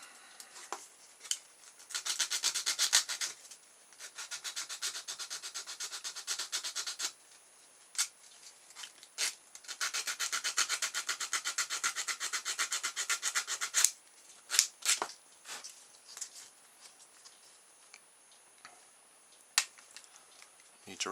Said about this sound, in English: So we'll use a bit of sandpaper instead.